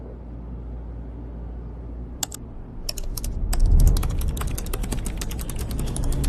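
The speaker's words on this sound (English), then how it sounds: "This is Manny typing on a computer." Rapid clicking of computer keyboard keys as a man types, starting with a few isolated taps and building into a steady, close, clattering run over a low rumble, with no talking.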